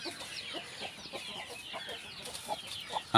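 Backyard hens cluck in short scattered calls, close and moderately loud, with a sharper louder note right at the end and no talk.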